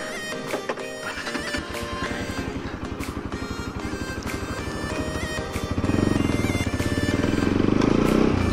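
A new motorcycle idles and then pulls away, its engine a loud rhythmic thrum up close that swells into a heavier, steadier roar as it gets moving.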